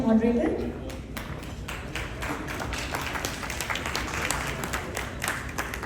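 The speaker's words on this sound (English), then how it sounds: "let's have a round of applause for our moderator." Audience clapping at an industry conclave on skill development, a steady broadband patter of many hands lasting throughout, fairly close and even, with some speech mixed in at the start.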